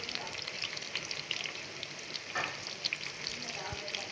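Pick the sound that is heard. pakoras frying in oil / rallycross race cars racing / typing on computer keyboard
pakoras frying in oil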